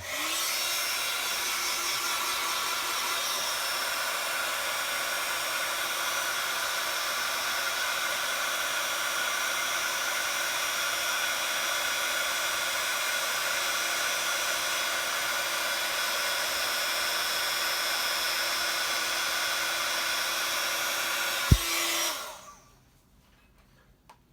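A heat tool blows a steady, loud whirring hiss for about twenty seconds while setting stamped ink, then switches off abruptly with a click into near silence.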